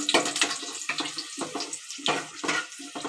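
Dried red chilies frying in hot sesame oil, a steady crackling sizzle with bursts of spitting that rise and fall, close and fairly loud with no voices.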